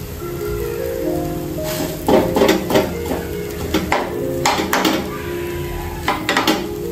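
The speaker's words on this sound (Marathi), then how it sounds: "छान असं प्रेस करून घेऊया, म्हणजे जे आपल्या पावाला लागलेलं आहे ऑमलेटचं मिश्रण ते पण त्याच्यामध्ये चांगलं फ्राय होईल" Bread omelette pav fries on a pan with a soft steady sizzle, broken by several sharp metallic clinks and scrapes of a spatula against the pan.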